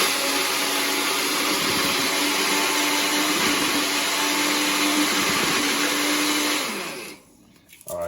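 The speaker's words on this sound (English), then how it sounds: "just blend it up to a nice consistency like so" A food processor with the chopping blade fitted runs steadily for several seconds, blending dates into a paste for protein balls. The whir is loud and constant, then cuts out abruptly near the end.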